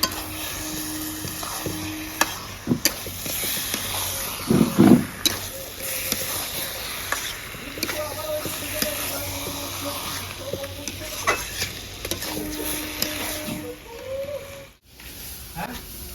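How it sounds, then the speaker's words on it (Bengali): Chicken meat being fried and stirred in a pan in a home kitchen, with steady sizzling and intermittent scraping clatter of a utensil against the pan, and voices talking in the background. "মাংসটা কিন্তু আমি এবারে কষতে থাকি"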